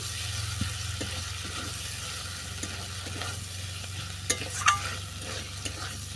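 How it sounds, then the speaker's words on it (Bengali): Chicken keema with spices being stirred and fried in a pan: a soft, steady sizzle with occasional scraping stirs and a few sharper clinks, close and fairly quiet, no talking. "চিকেন কিমা নেড়ে সেটা ভালো করে কষিয়ে নিয়েছি"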